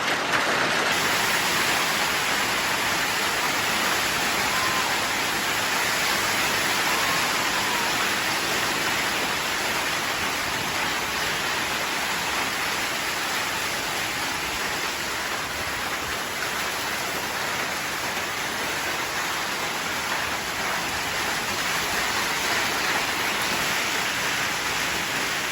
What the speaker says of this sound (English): Guys, I've never seen a hailstorm like this before.